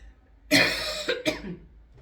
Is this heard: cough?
yes